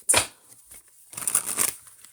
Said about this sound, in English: I'm going to put this one back in because I need to shuffle a little bit better.